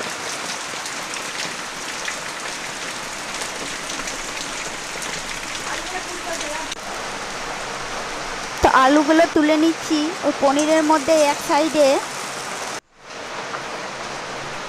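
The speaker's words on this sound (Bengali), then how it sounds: "বৃষ্টি সারাদিন হতেই থাকছে" Heavy all-day rain falls steadily outside a home kitchen during cooking, a constant broadband hiss throughout; someone talks over it, and near the end there is a brief cut to quieter ambience.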